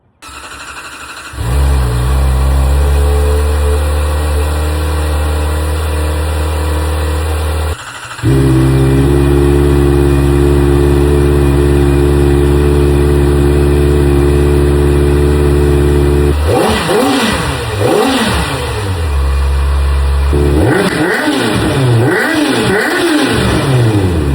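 A 2026 Kawasaki ZX-4RR motorcycle engine with stock exhaust idles steadily, then revs up sharply several times in quick bursts, loud and close, with no talking.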